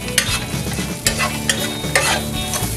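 Onions and celery stalk stirred in a frying pan for Filipino pansit bihon guisado, with a loud, close sizzle broken by several brisk scraping strokes of a spatula.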